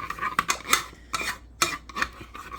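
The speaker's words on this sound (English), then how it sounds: "you can stir for as long as you want to make sure to get them all out" A spoon stirs Annie's organic shells and white cheddar macaroni and cheese in a pot, making close, repeated scraping and clinking strokes in uneven bursts, with no talking.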